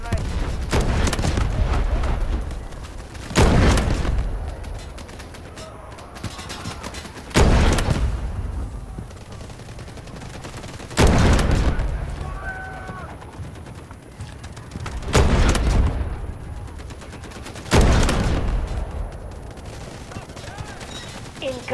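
Artillery barrages and rattling gunfire in the military shooter Delta Force Hawk Ops: heavy booms land every few seconds over a constant loud din of automatic fire, with distant battlefield noise between the blasts.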